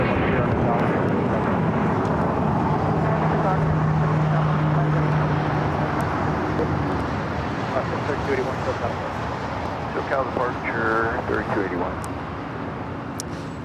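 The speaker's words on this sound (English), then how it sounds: "As Turkish Flight 9 arriving on the north side." A Turkish Airlines jet arriving at LAX, a broad roaring rumble of the aircraft passing and fading, with someone talking over it nearly throughout.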